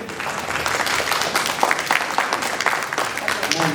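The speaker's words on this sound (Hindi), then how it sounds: "जोरदार ताली इनके लिए।" Audience at an award ceremony in an auditorium applauding a guest invited to the stage, a dense, steady patter of many hands at moderate volume throughout.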